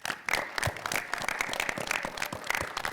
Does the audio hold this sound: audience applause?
yes